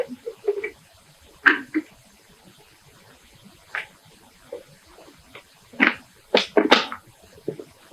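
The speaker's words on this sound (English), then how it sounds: "Please permit me to drink water." Water poured and drunk at close range indoors: a series of short, separate clinks, sloshes and gulps scattered across several seconds, with quiet pauses between them and no talking.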